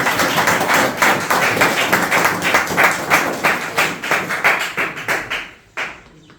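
A wedding crowd at an official ceremony breaks into loud, rhythmic clapping for a guest, close and dense, pulsing in a steady beat before tapering off near the end.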